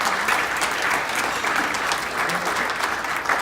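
Sustained audience applause at a NAHREP Metro DC speaking event, a steady, loud wash of clapping from a large crowd greeting a military veteran, continuing evenly without pause.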